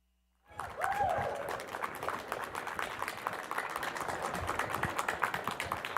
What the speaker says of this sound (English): We haven't even started and we're already getting applause